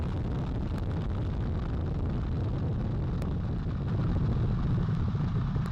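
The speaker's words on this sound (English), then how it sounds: "All 4 RS-25 engines on the core stage and 2 solid rocket boosters now propelling the vehicle at 128 miles per hour." The Artemis 1 SLS rocket lifts off, its four RS-25 core-stage engines and two solid rocket boosters producing a continuous deep, dense roar with wind-like rumble, steady and loud, growing slightly stronger toward the end.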